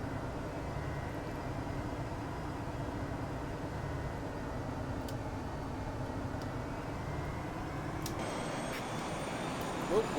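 Challenger 300 jet engines in X-Plane 11 hold a steady rumbling whine at taxi, then spool up toward takeoff thrust with a rising tone near the end, loud and continuous throughout.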